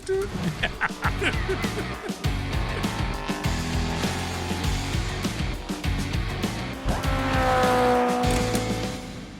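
A moped sound effect: a loud engine revs hard, and tires squeal as it speeds off. The motor pitch rises steadily toward the end, with a busy, sustained roar throughout.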